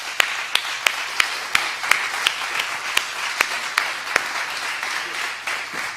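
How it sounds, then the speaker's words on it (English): Scattered audience applause at an evening event, a modest crowd clapping steadily with a few sharp, distinct claps standing out, moderately loud and continuous for several seconds. "Let's give them both a round of applause."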